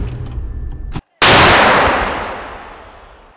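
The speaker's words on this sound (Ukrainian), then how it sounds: "Гармата! Постріл!" One massive blast from a self-propelled artillery gun goes off after a short silence, then its long rumbling echo fades slowly across several seconds, with low engine noise running beforehand.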